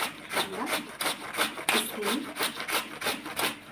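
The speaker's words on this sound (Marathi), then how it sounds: "चला तर अशा पद्धतीने मी आता किसून घेते." Peeled raw green mango grated by hand on a grater in a home kitchen for sweet-sour mango preserve, giving steady rhythmic rasping strokes about every half second, close and clear with no talk.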